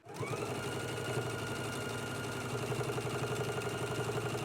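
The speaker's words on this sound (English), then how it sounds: "I am just going to do a basting stitch to baste it in place" A sewing machine runs a basting stitch along a shirt placket, with a continuous, even whir throughout at moderate volume.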